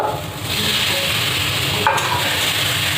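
Fried potatoes tipped into a pan of masala cooking down for a Bengali fish curry, giving a steady close sizzle and hiss with light stirring scrapes, no voices.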